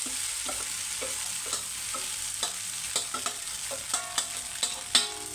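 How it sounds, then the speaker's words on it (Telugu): Cooked rice tipped into a lemon rice pan off the heat and mixed with a spatula, giving repeated scraping and clinking stirs that build louder toward the end, over a faint steady hiss. "రైస్ మొత్తాన్ని అయితే వేస్తున్నాను."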